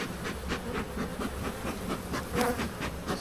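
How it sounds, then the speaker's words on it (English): Honey bees swarm densely around a large beehive during an inspection, a steady close buzzing hum with pulsing surges, rising briefly louder near the end. "There are so many bees here."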